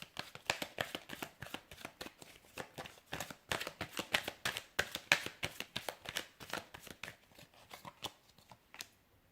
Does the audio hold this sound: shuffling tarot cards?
yes